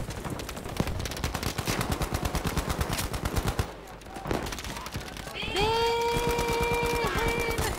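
Battlefield V gunfire: a fast, loud machine-gun burst of rapid regular shots, a short lull with scattered shots, then a sustained tone as a voice speaks underneath.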